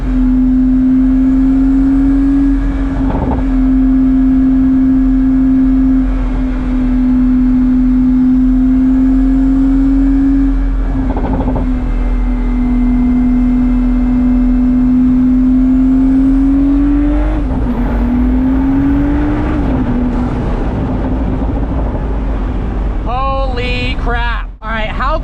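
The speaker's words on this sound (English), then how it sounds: "One last acceleration pull." A Pagani Huayra Roadster BC pulls hard under acceleration, a loud steady engine tone climbing gradually in pitch, heard from inside the car, with a brief shift dip near the end.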